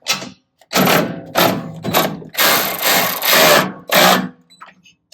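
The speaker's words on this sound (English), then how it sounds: "So just use tool, use a ratchet." Ratchet tightening bumper screws on a 2023 Toyota Tacoma during a body armor bumper install, heard as several close bursts of rapid clicking separated by short pauses, with no talking.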